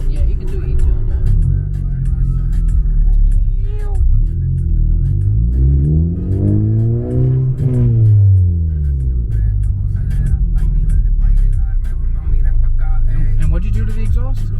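Subaru Impreza with a muffler-delete exhaust revs up and back down in a deep rising and falling sweep, surrounded by steady low engine rumble while people talk over it.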